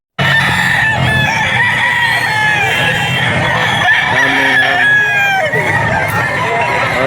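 Roosters crowing at a crowded pet market in Bocaue, several loud overlapping cock-a-doodle-doo calls and clucks close by, with faint voices in the background.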